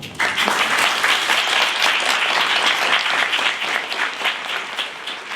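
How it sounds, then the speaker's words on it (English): A dinner-event crowd breaks into loud, sustained applause for the speakers, many hands clapping in a dense wash that holds steady before easing slightly at the end. "So let's give them a huge round of applause."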